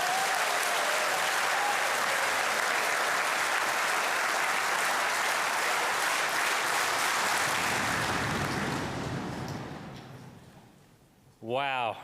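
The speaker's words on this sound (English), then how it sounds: "Boys, I think Miss Kim needs another round of applause." Sustained loud applause from a school Year 12 farewell audience, dense steady clapping for about ten seconds that fades, followed by a brief burst of other sound at the end.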